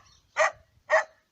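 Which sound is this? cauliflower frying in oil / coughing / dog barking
dog barking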